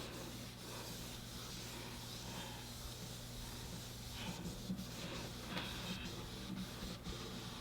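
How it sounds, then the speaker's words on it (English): Faint rubbing and scrubbing on a marble surface being cleaned with Grease Police cleaner, a soft continuous hissy friction with a low steady hum underneath and a few brief scraping strokes. "I'm gonna scrub it good because they scrubbed it good in the infomercial"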